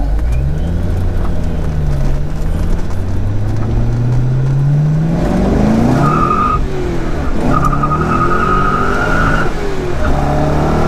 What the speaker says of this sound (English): you can still hear the rear tires spinning